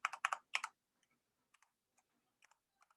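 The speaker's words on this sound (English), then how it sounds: "So if I type in my password again," Typing a password on a computer keyboard: a quick burst of loud key clicks followed by sparse, fainter taps, close and quiet with no talking.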